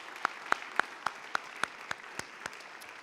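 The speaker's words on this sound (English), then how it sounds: "can we have an applause for all the parents and scholarship donation people here tonight?" At a senior academic and athletic recognition ceremony, a few sharp claps ring out at a steady rhythm, about nine distinct hand claps, faint and fairly close, over a quiet room.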